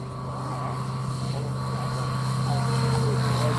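A Zenith STOL light airplane on a short landing, its propeller engine droning steadily and loud throughout, holding a constant tone as wind noise builds slightly.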